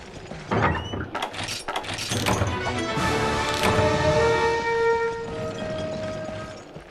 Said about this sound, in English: Man, the sound of that anchor.